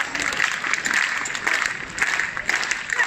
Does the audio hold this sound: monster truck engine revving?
no